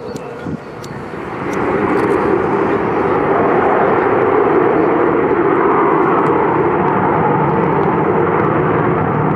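An Avro Vulcan XH558 delta-wing jet bomber at the Cosford Air Show 2014 builds quickly into a loud, sustained roaring howl that holds steady and dominates, with faint crowd noise beneath.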